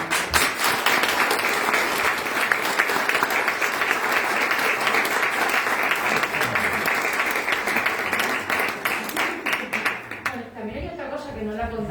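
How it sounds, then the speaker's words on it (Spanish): An audience in a hall breaks into long, dense applause, loud and steady for several seconds before fading, with a voice and music emerging at the end. "un aplauso va también para ti"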